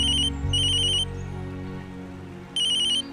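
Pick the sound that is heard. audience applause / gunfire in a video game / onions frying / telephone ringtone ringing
telephone ringtone ringing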